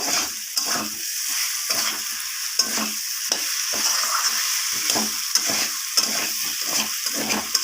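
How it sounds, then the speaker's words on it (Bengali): Steady sizzling and frying with repeated scraping strokes as fried potatoes are stirred with spices in a hot pan, close and continuous, no talking. "আলুগুলোকে সব মশলার সাথে কষিয়ে নেব"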